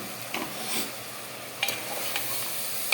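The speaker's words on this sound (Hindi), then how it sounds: "अभी फिर से हम लोग वही मटन को बढ़िया से पकाएंगे, मिक्स करेंगे ताकि सारे मसाले इसमें अच्छे से मिल जाए।" Mutton being stirred with spices and red chilli powder in a pan, producing a soft frying sizzle broken by a few scraping strokes and clinks of the spoon.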